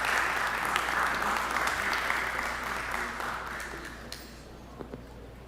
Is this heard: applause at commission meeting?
yes